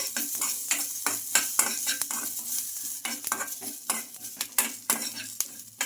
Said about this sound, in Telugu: ఒక స్పూన్ జీలకర్ర కూడా వేసుకోవాలండి కొంచెం ఆయిల్ కూడా వేసుకోవాలి ఇవన్నీ బాగా ఫ్రై చేసుకోవాలి